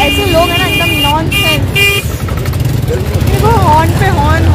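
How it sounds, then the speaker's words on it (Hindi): Vehicle horns honking on a busy road in Jabalpur, several short toots and beeps from passing cars and motorcycles over engine and traffic noise, with people talking throughout. "हॉर्न पे हॉर्न, हॉर्न पे हॉर्न"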